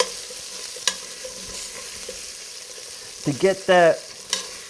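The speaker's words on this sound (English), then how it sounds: "We're cooking down the tomato paste" Tomato paste cooks down and is stirred into vegetables for beef short ribs, giving a steady soft sizzle with occasional spoon scrapes and a sharp tap, while a person speaks briefly near the end.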